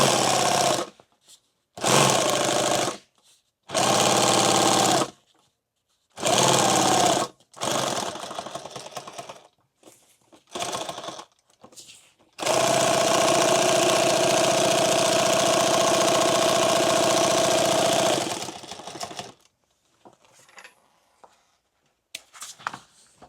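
Sewing machine stitching a rifle magazine pouch, running in several short bursts and then one long steady run, loud and close with brief pauses between.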